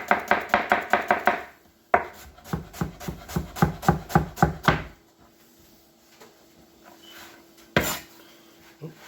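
A knife minces an onion on a cutting board in two quick runs of rapid, evenly spaced chops, close and crisp, then a pause with a faint hum and one last sharp knock.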